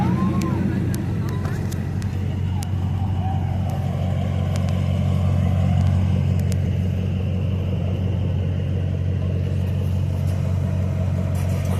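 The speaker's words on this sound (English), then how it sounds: "Cool sound of that truck." A customized show truck with a loud aftermarket exhaust rumbles steadily at a truck show, its deep low idle continuous and close throughout, with faint crowd noise around it.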